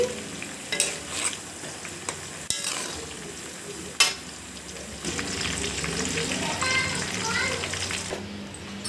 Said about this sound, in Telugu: ఆకుల్లో నుంచి ఆయిల్ బయటికి తేలే వరకు ఇందులో నుంచి కలర్ మారే వరకు బాగా కాగాలి